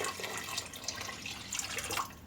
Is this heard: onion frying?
no